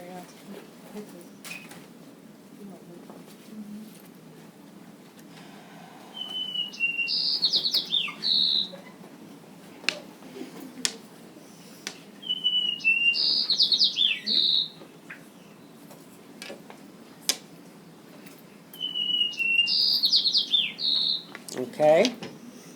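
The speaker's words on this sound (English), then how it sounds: "So here we have white-crowned sparrow from California, from Oregon, and from Canada." White-crowned sparrow songs from California and Oregon ring out three times at even intervals, each a clear whistled phrase ending in a trill, over faint background rustling and clicks.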